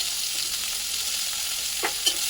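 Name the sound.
chopped onions frying in hot oil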